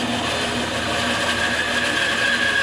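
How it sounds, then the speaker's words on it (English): A bandsaw cuts a mortise and tenon joint in a laminated guitar neck, giving a steady, close, high-pitched whine that holds throughout with no talk. "Now here we are on the bandsaw, we are making the mortise and tenon joint."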